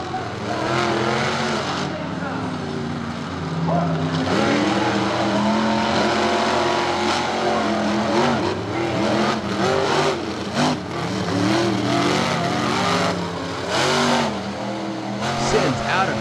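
Monster trucks racing a rallycross course at Charlotte Motor Speedway, their engines revving and surging loudly with rising and falling pitch and occasional tire squeal, under an announcer's commentary.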